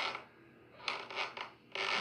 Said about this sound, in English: a creak in the floorboards outside of the room caught my attention.